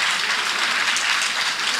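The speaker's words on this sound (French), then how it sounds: "En raison des applaudissements" Sustained applause at a political gathering where Amadou Ba is named presidential candidate, a steady dense wash of clapping from a crowd.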